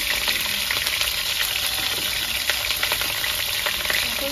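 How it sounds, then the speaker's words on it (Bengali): Cauliflower and potato pieces fry in hot oil for a home-style curry, a close, steady sizzle with occasional stirring clicks and no voices. "তেলটা গরম হয়ে গেছে, ফুলকপিটা ভেজে নেব। তার সঙ্গে আলুটাও ভেজে নেব।"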